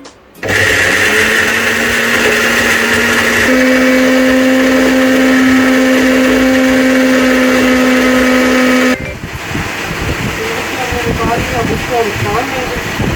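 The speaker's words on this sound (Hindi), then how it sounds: "फिर अब ये जो मटीरियल हम इसको ग्राइंड करते हैं।" Electric grinder blending garlic and tomato ketchup ingredients, starting abruptly with a loud steady whine that shifts pitch partway through, running about eight seconds before cutting off, followed by quieter clatter.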